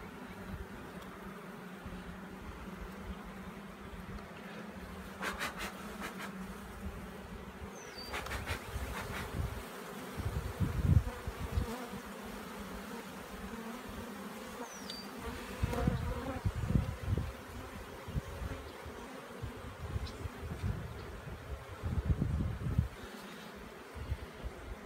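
Honey bees buzz steadily around an open swarm-trap hive during a colony inspection outdoors, a dense close hum with individual bees passing near, occasional handling clatter and light wind.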